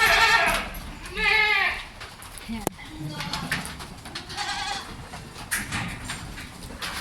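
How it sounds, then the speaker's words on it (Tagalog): Goats on a farm bleat loudly at feeding time, several wavering cries close by, mixed with rustling, a sharp knock and people talking. "Malaki ng kambing."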